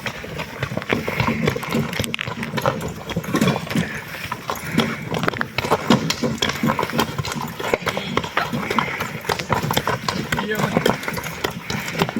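A harnessed stallion pulls guests in a cart, its hooves clip-clopping steadily over a continuous engine-like rumble, with people talking and calling out throughout.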